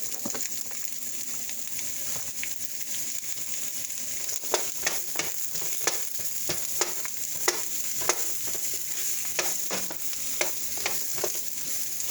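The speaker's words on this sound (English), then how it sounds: "they're going to cook in here for about another 5 minutes. And get all nice and golden brown in that beef fat" Green peppers and onions sizzle steadily in beef fat in a pan, a constant close frying hiss broken by a regular run of sharp stirring clicks and scrapes, with no voices.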